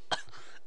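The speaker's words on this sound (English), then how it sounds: "I think I got a kennel cough" A single short cough, close and fairly quiet, followed by faint throat noise, with no talking around it.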